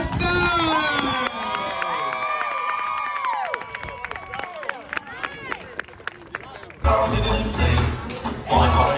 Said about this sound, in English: Big round of applause for our state champions, Westside!